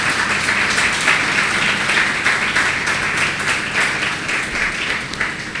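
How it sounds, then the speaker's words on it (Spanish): A church congregation applauds together, a steady, dense wash of clapping that holds at an even level from start to finish with no talk over it. "Dale un fuerte aplauso al Señor."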